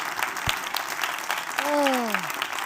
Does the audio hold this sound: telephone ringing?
no